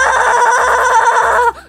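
A person imitates a goat for a Minecraft goat with a single drawn-out, wavering bleat, loud and close, ending abruptly.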